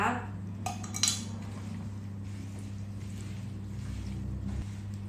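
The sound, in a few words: stirring herbal scrub mixture with pomegranate oil in a bowl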